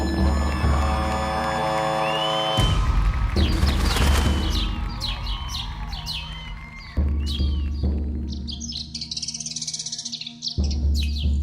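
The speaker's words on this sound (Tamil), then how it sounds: "இங்கே பறவைங்கள்லாம் நிறைய இருக்கே சார்" Birdsong from many birds outdoors: high chirps and tweets scattered across the stretch alongside sustained music, with brief breaks and a dense flurry of calls toward the end.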